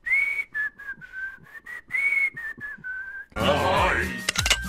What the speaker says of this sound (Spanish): Creo que todos reconocemos ese silbido particular de Gohan con el cual baila con el Señor Dragón.